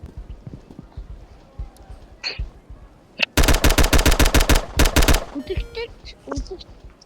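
A loud burst of rapid machine-gun fire erupts midway, two quick volleys close together, with quieter talking and movement before and after.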